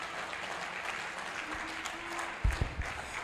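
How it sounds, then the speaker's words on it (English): An audience at a procurement capacity-building event applauds the DG after his presentation, with steady clapping from a moderately distant crowd and a few louder knocks near the end. "Please let us applaud him."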